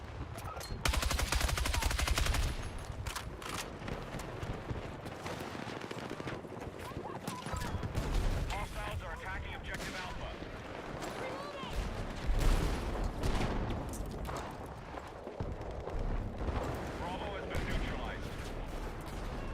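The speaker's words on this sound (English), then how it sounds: "they've been obliterating this whole map with the tanks and explosives." Dense battlefield noise in the shooter Battlefield 6, with tanks and explosives going off constantly, heavy booms and rattling gunfire layered into a continuous loud roar while players talk over it.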